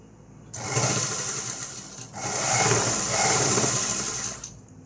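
Sewing machine stitching a blouse in two close, steady whirring bursts separated by a brief pause, the motor buzzing loudly with a fine rattling needle texture, no voices.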